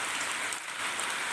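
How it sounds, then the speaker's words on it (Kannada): Heavy rain pours down in a continuous, even hiss, dense and unbroken from start to finish, with no voices. "4 ಗಂಟೆ ನಂತರ ಮಳೆ ಸ್ಟಾರ್ಟ್ ಆಗಿದೆ."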